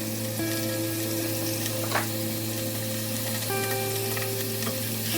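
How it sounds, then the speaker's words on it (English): Small pieces of pork frying and being stirred in a saucepan, a steady close sizzle with a low hum underneath and one brief scrape of the spoon partway through. "Stir it, otherwise it will get stuck into the saucepan."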